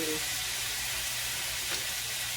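Mushrooms sautéing in a pan with Kikkoman soy sauce give off a steady, even sizzle and hiss that stays constant throughout, with no voice over it.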